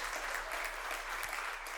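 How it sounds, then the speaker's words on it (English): Steady audience applause after a regenerative agriculture panel on Puerto Rico's cacao revival, a dense continuous wash of many hands clapping throughout, with no voices on top. "Round of applause one more time"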